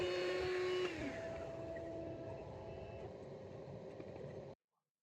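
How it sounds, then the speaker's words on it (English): A CNC machine milling a fixture gives a steady, fairly quiet mechanical whir with a falling whine near the start, running continuously for several seconds before cutting off abruptly. "and then went on to machine a fixture."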